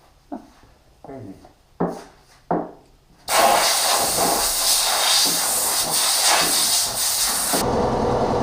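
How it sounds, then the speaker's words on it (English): An air compressor blasts air through a dust collector filter in a wood shop: a few short sharp hissing puffs at first, then a loud continuous roaring hiss that cuts off near the end. "My compressor keeps going."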